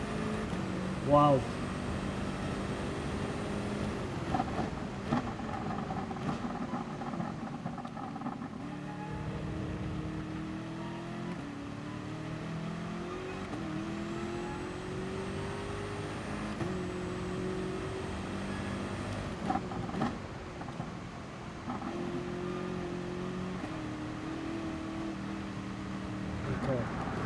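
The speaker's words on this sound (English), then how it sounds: "Wheel spinning in third gear at 160 k's an hour." A race car's engine screams as its wheels spin in third gear at about 160 km/h in a racing video game at the Red Bull Ring short circuit, a steady high whine running throughout under a commentator's talk.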